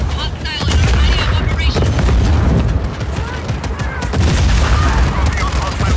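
Heavy cannon fire from a train-mounted gun in the video game Just Cause 4. Dense, loud, continuous booming and rattling gunfire runs throughout, with explosions mixed in, and a radio-style voice talks over it.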